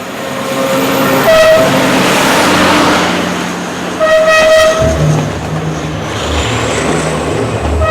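A loud train rumbles past with two short horn blasts, then a lower droning tone as it moves on.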